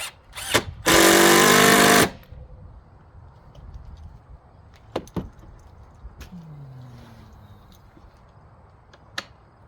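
Cordless power drill driving screws into a homemade truck camper, one loud sustained burst of about a second near the start, followed by quieter knocks and handling clicks.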